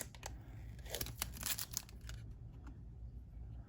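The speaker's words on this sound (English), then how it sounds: "Let's just take a look at what this card is after peeling the coating off." The coating is peeled off a hockey card with a run of close, crackling, crinkly tearing sounds that cluster in the first half and then fade to quiet, with no voices.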